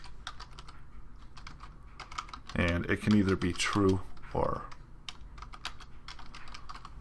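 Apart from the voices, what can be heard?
typing on a computer keyboard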